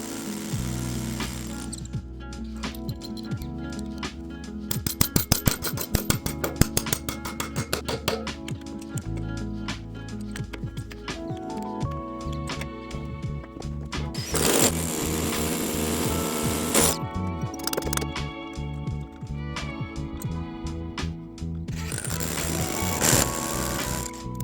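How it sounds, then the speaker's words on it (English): A power drill bores into an outdoor wall for sleeve anchors while a pergola's beams are being attached, in repeated whirring bursts of varying length, with background music running throughout and no talking. "I'm attaching these beams to the wall with sleeve anchors. You have to drill at a slight upward angle."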